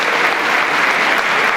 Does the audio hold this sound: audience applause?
yes